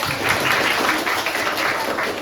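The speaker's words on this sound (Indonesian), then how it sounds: "Tepuk tangan dong" A classroom of students claps together in a steady, dense wash of applause, loud and close, with no clear voice over it.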